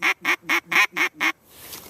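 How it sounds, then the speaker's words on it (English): A duck call blown with quacks run together rapidly: six loud, evenly spaced nasal quacks in quick succession, close up, then a faint trailing tail. "That is taking quacks and putting them all together."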